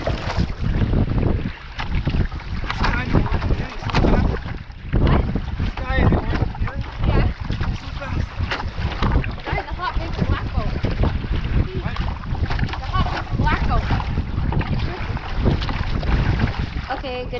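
Canoe or kayak paddling during a marathon race, heard as constant loud wind buffeting and water splash from close by, with people talking over the noise throughout.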